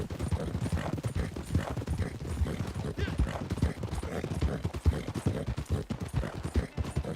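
Horse hooves clip-clop steadily in a fast, continuous rhythm as a rider sets off across a river and up a hill in a Western scene, close and busy with clattering and gear noise.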